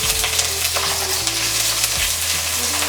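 Crushed onion and chopped garlic fry in a pan for a cucumber posto dish, giving a steady, close, dense sizzle with light stirring and no talk.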